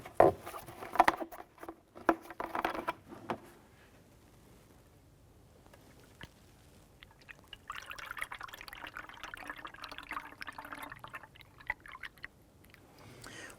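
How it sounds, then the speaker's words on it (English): Coolant poured into the expansion tank of a 2012-2017 Toyota Camry, a soft liquid patter and trickle with irregular drips, faint and close, fading midway before a steadier splashing stream returns. "I want to go ahead and fill this up to the full mark on the tank"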